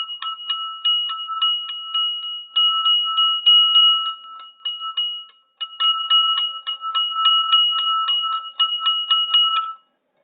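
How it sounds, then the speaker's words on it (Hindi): A bright temple bell rings rapidly and steadily in two long bursts separated by a brief pause, loud and close with a clear metallic ring. "इस घंटी का आवाज आएगा"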